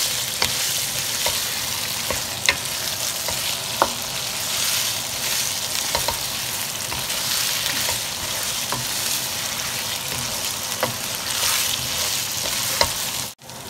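Four medium potatoes frying with minced meat for qeema aloo, a loud continuous sizzle with regular spatula scrapes and taps against the pan.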